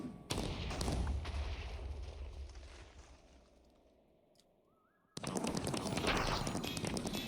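Crossbow multishot firing in Minecraft, a burst of sharp rapid shots that fades into a quiet stretch with a short rising tone, then another loud volley of crackling shots.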